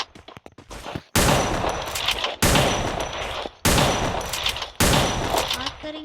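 An M590 shotgun fires in a video game as four loud, sharp blasts spaced roughly a second apart, each trailing off into a reverberant tail; a few faint clicks come before the first shot.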